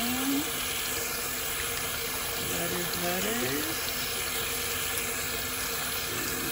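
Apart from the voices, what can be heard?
water running from a sink tap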